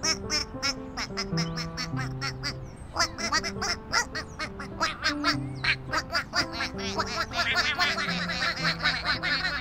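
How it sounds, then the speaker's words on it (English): Cartoon ducklings quack repeatedly in a children's counting game, bright rhythmic calls in quick bursts over a bed of playful music, with a faint snicker-like sound mixed in. "Blue made sure that all 12 ducklings found the pond."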